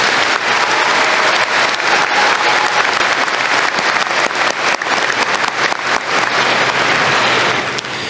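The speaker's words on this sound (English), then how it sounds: "Please give them all another round of applause." Audience at a high school graduation ceremony claps loudly and continuously, a dense sustained round of applause filling the whole stretch without a break.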